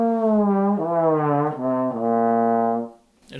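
Trombone slurs with no tonguing, producing one long smeared glissando as the pitch slides down through several notes without breaks, close and solo before fading out.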